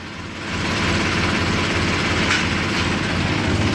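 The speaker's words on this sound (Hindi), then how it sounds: "ट्रैक्टर इतना दाबा कि मोनू से पहले हम गांव में आ गए" A tractor engine pulling a sugarcane load along a village road, a steady loud low rumbling drone that swells in at the start and holds continuously, with no talking.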